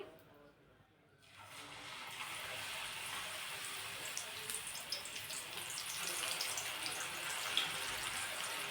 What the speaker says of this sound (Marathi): मी यामध्ये थोडंसं पाणी टाकून घेते